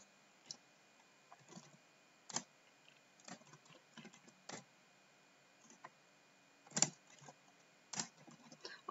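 Scattered, quiet keystrokes on a computer keyboard, irregular single clicks and short clusters spread across several seconds with no talking.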